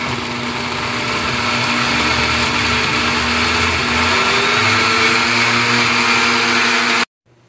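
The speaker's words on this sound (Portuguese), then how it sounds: "nós batemos toda a cebola e nós tiramos um pouco porque acabou enchendo o liquidificador" A kitchen blender runs steadily, chopping onions with soybean oil for a homemade Brazilian seasoning, a loud continuous whir with shifting motor pitch that stops abruptly near the end.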